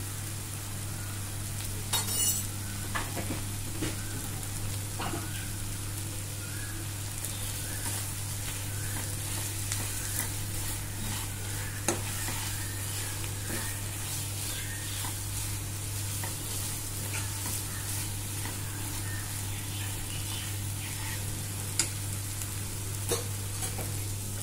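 Chili powder stirred into hot oil in a pan for Kolhapuri tambda rassa: a continuous soft sizzle with scraping stir strokes and occasional light clinks, close up over a low steady hum.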